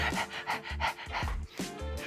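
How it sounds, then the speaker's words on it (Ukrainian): Rapid, heavy rhythmic panting, a series of close, loud breathy gasps in quick succession, standing in for a demon's breathing from the film Paranormal Activity. "будить Кеті диханням"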